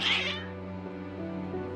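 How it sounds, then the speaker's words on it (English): Cats meow insistently, one drawn-out, strained yowl up close that slides down into a lower wail, with no talking. "Your cats seem pretty worked up."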